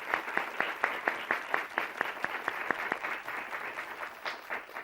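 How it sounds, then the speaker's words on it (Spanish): Steady, rhythmic clapping from a small television game show studio audience, sharp evenly spaced claps with a softer patter of applause underneath, fading slightly toward the end. "yo creo que don Lorenzo se merece un aplauso"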